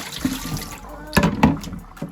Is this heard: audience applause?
no